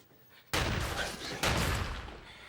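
Gunfire in a chaotic film heist shootout: two sharp, loud broadband blasts about a second apart, each leaving a long harsh roar that stays high and fades only slightly.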